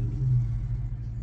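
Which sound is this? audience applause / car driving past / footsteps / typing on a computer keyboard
car driving past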